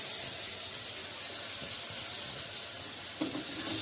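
Tomato puree is stir-fried in a pan, giving off a steady close sizzling hiss that holds throughout, with a brief clink of a utensil near the end and no talking.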